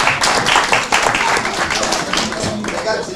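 Workshop audience applauds steadily indoors at a food and tourism strategy event, dense sustained clapping close by with a voice briefly over it.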